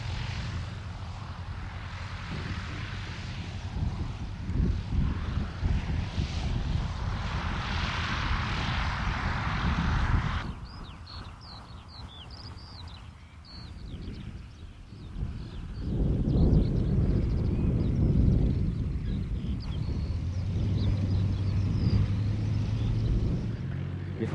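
A Yak-52 propeller trainer aircraft flaring and landing: a steady droning piston engine and propeller, a sudden shift in tone midway, then rising engine rumble, heard from nearby and fairly loud throughout.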